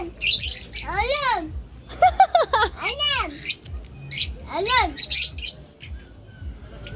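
A parrot gives several loud, rising-and-falling squawks in bursts, close by, with people chatting in Turkish around and between the calls.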